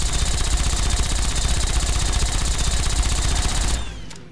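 A minigun in the Fallout New Vegas video game fires one long, loud, unbroken rattling burst of rapid shots for nearly four seconds, then cuts off abruptly with a brief spin-down tail.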